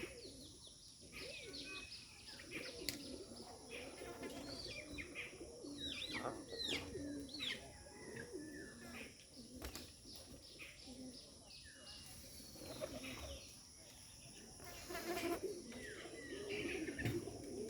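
Giribaz pigeons from Rajshahi coo on and off amid outdoor ambience, with scattered chirps and occasional wing sounds, moderately close and steady throughout.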